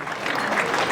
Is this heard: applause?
yes